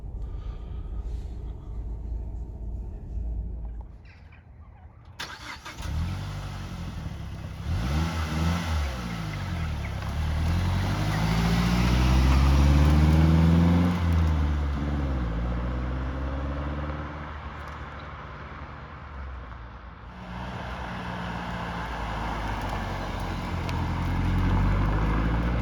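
A 2010 Mazda 3 MPS hatchback drives along with its engine droning under cabin road noise, rising in pitch as it accelerates through a gear, then easing off and building again. The sound is steady and moderately loud, with no speech.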